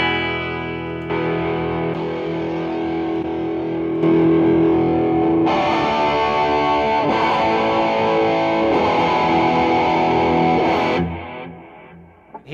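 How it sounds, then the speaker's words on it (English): Distorted electric guitar riffs from a Tokai SC2 played through a 1965 Fender Deluxe Reverb amp and effects pedals on a daisy-chained power supply, loud and sustained, building in intensity before fading out at the end. "So I'm going to play a couple of riffs through it"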